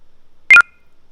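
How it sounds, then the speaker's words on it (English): A short electronic error tone from engineering design software chimes once, a crisp two-note beep lasting under a quarter second against otherwise silent background. "you also hear a little error sound"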